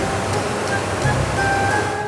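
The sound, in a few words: water washing chili peppers in a factory cleaning machine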